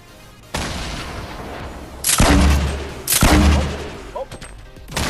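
Gunfire and explosions in a video game firefight erupt as a sudden loud burst, followed by two heavy booming blasts about a second apart and trailing crackle, with faint voices underneath.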